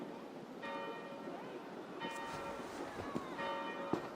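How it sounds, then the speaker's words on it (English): Church bells ring out in Assassin's Creed Valhalla, a steady harmonic peal recurring in three strikes over a faint background hum with no talk. "Do you not hear the bells?"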